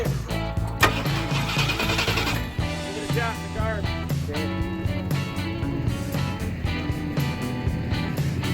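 A 1967 Ford Thunderbird engine starting for the first time, cranking, catching and settling into a loud, rough, uneven idle close by, with some voices underneath.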